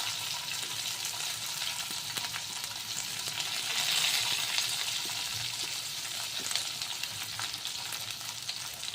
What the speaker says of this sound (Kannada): ಸೊ ಈರುಳ್ಳಿ ಚೆನ್ನಾಗಿ ಫ್ರೈ ಮಾಡ್ಕೊಳ್ಳೋಣ